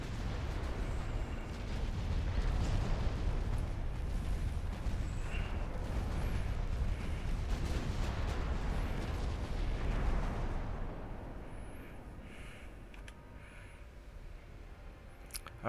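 Battleship destroyed in Ultimate Admiral Dreadnoughts: a long, dense roar of explosions and rumbling blasts lasting about ten seconds, then fading to a quieter lingering rumble, no talk.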